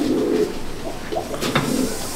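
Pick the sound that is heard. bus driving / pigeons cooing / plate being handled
pigeons cooing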